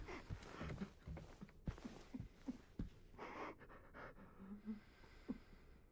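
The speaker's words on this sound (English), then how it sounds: "Shallow breathing." Quick, shallow breaths from a character in the Silent Hill 2 Remake come as quiet, uneven pants, with a few soft thumps between them.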